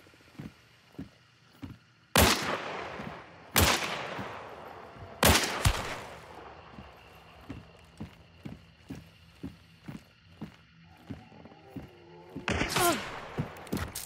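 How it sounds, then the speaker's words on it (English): Officer carbine gunfire in a video game bounty hunt: several sharp, loud shots spaced a few seconds apart over a steady run of rhythmic footstep-like thuds, with a burst near the end. "it sounds like the officer carbine."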